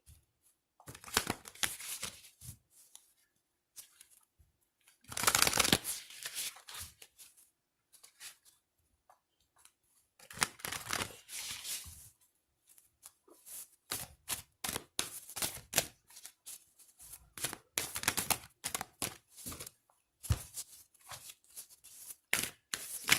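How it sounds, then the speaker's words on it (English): Tarot cards being shuffled in repeated riffling bursts with pauses between, close and crisp, no talking. "If you can't see me shuffling, you can hear me shuffling."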